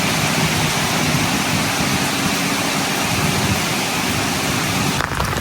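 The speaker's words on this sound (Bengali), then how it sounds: "আজকে ধুম বৃষ্টি হইতেছে" Heavy rain pours down without pause in a village setting, a dense, loud, even hiss drenching a veranda and surrounding surfaces, with no voices over it.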